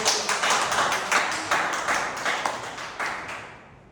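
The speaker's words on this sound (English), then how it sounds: "Can we have a round of applause?" A small gathering gives a round of applause at a speaking club meeting, steady rhythmic clapping from a modest group close by, fading out toward the end.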